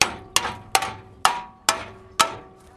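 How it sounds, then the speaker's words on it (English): Hammer tapping fresh welding on the metal of a 1976 Land Rover Series III under rebuild, six sharp ringing metallic strikes at a steady pace, close and clear, each decaying quickly, with no talk over them. "It needs the hammer test."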